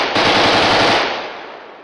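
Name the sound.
Kalashnikov rifle gunfire sound effect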